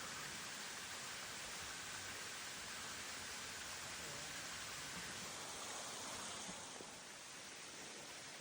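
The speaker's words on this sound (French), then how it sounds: "Le départ de la cascade." Waterfall at the Cascade d'Autoire in a limestone gorge, a steady broad hiss of falling water heard from a distance, continuous and even, fairly faint with no talk.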